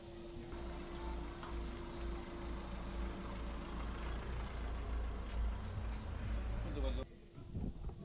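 A flock of birds calls outdoors on a hillside, many bright overlapping chirps and whistles over a steady low rumble of wind and traffic, moderately near, ending abruptly.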